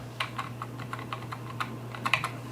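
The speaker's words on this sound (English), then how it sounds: "My free new stock old keyboard's working." Keys clack on an old stock computer keyboard hooked up to a cheap Windows XP machine, a quick irregular run of close, crisp taps over a steady low electrical hum.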